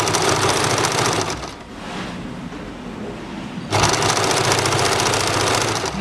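A sewing machine stitches a strip along a blouse neckline, running in fast, steady rattling bursts that stop briefly midway before starting again, close by and with no talking.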